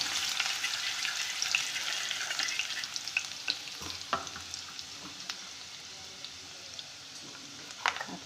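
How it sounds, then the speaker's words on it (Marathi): Garlic sizzles in hot oil for a cowpea pod dish, a soft, fairly quiet crackle with scattered pops and light stirring clicks, no talk. "तेल टाकलं तर लसूण टाकून घे."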